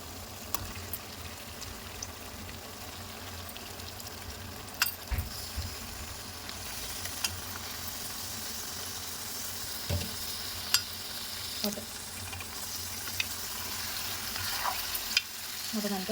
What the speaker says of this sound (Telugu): ఆ మటన్ మొత్తం దీంట్లో వేసేసుకుందాం.